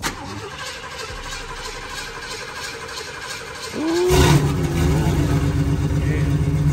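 An Oldsmobile Cutlass 442 cranks with a rhythmic starter whir for several seconds, then catches and roars into a loud, rough revving idle up close after sitting three weeks.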